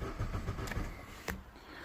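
A Vauxhall Astra with a no-start fault cranks with a quick rhythmic churn that chugs for under a second, stops, then gives a short burst, close and fairly faint.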